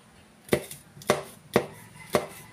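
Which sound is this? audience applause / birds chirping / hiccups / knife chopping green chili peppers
knife chopping green chili peppers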